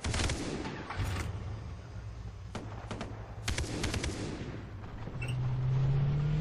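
Gunfire in the video game Far Cry 3: several sharp shots and short bursts crack out over a steady low engine drone, clustered early and again in the middle, moderately loud.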